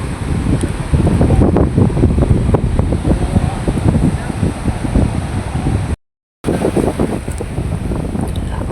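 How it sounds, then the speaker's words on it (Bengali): Strong wind buffets the microphone over the rushing wash of sea waves at Dubla Char, Bangladesh, with boats rocking, loud and continuous, with a brief dropout partway through. "অনেক বাতাস এবং ঢেউ"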